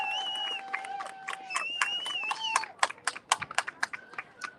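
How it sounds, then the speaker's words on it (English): Scattered, uneven hand claps from a crowd at an outdoor Seattle freedom march, starting sparse and growing sharper toward the end, mixed with cheering voices and whistle-like calls. "Let's give her a big round of applause."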